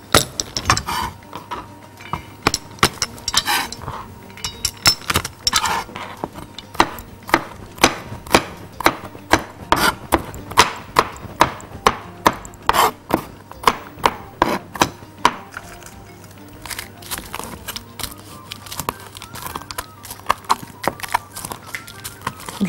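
A knife chops peppers on a cutting board in rapid, uneven bursts of sharp close knocks that continue over a long stretch, thinning toward the end, with no talking.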